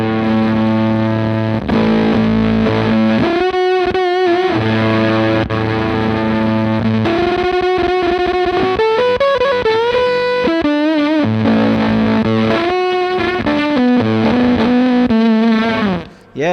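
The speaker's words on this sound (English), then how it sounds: "it just seems to add a whole bunch more saturation" Electric guitar played through a JHS fuzz pedal with its extra saturation button engaged, a thick, heavily distorted tone with sustained chords and melodic bends that runs continuously and loud, with no talking.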